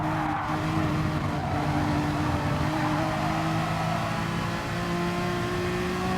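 Ferrari and Honda NSX race cars from a racing game at the Autopolis circuit, engines roaring continuously and loudly with sustained high revving and a hint of tire squeal, no voices.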